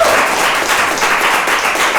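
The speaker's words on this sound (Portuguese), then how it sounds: "façam-se ouvir só com umas palmas" A live studio audience at a breakfast talk show applauds, a dense, loud, even burst of clapping from many hands over the short moment.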